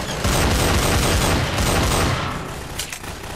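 Rapid gunfire bursts in the Half-Life 2 Garry's Mod game, a dense loud fusillade of overlapping shots for about two and a half seconds before thinning out.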